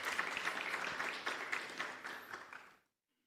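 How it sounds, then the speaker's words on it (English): An audience at a campus community safety forum applauds for a speaker, a dense steady clapping that stays even and then stops abruptly near the end. "Let us give Brigadier Josephs another round of applause."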